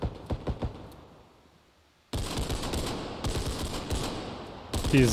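Gunfire in the video game Bodycam: a few spaced shots at first, a quiet lull, then a loud sustained burst of rapid automatic fire with sharp cracks running to the end.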